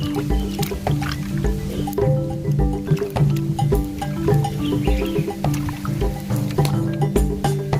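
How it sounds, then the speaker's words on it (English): Cow intestines being washed by hand, with wet squishing, slopping and dripping in irregular bursts, close and fairly loud over faint background music. "I always start washing with these ones and then finish with these ones because these ones require some time to get clean."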